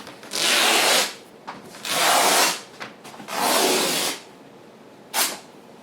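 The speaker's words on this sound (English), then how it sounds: "Let's just put a little snip in it, and we should be able to rip this fabric" Denim fabric is torn along the grain by hand in three long ripping bursts with pauses between them, followed by one short final tear, all loud and close.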